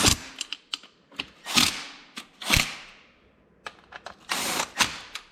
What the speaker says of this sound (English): I'm just running them in with the impact